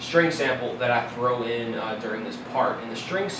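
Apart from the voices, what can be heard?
No distinct noise like a dog, phone or traffic.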